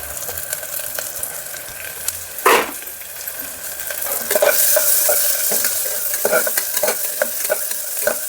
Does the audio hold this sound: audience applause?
no